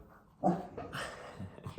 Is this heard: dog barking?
yes